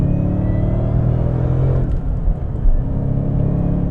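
An 825 hp Whipple-supercharged 2017 Mustang GT pulls hard along an ordinary road, a loud, close, deep engine drone building and surging, with a brief dip partway through before rising again.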